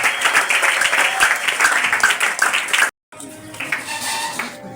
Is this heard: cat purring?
no